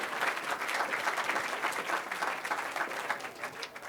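Applause from the audience at a regional sports and business awards evening in Noordoost-Friesland, steady continuous clapping heard from some distance, fairly soft and without speech on top.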